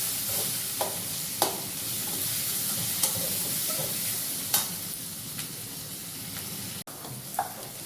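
Tomatoes fry with browned onions in a pan, giving a steady close sizzle broken by occasional stirring scrapes and spoon taps, with no talking.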